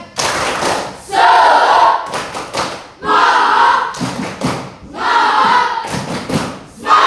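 A class of students does a rhythmic spirit clap, tepuk semangat, with loud bursts of group clapping and chanted voices in repeated rhythmic phrases, separated by brief pauses.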